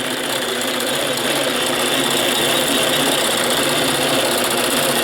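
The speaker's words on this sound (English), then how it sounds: "Now see, it just sewed that one little blurb right there." A computerized quilting machine sews in a steady, loud, dense mechanical chatter, its needle rattling on without a break throughout.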